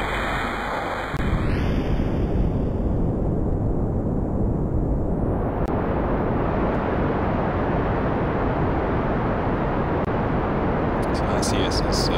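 Rocket engine burn with RCS thrusters in Kerbal Space Program: a loud, continuous roaring rumble kicks in after a brief tone sweep and holds steady, with faint hissing puffs near the end.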